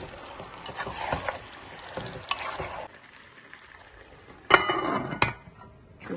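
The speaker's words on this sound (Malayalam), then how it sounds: "ഇനിയും ഇതിലേക്ക് ആവശ്യമായിട്ടുള്ള ഉപ്പ് കൂടി ചേർത്ത് ഒന്ന് ഇളക്കി ഒരു 5 മിനിറ്റ് ഒന്ന് വഴറ്റി എടുക്കാം" Chicken with salt sautéing in a pan, a close sizzle broken by repeated scraping strokes of a spoon stirring, with a couple of sharper clanks against the pan.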